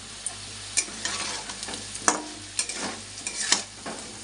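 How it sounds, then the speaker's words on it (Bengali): Taro and potato pieces frying with turmeric in a pan, a steady close sizzle broken by repeated scraping stir strokes at irregular intervals, with no talking. "কচু আর আলু ভেজে নিচ্ছি।"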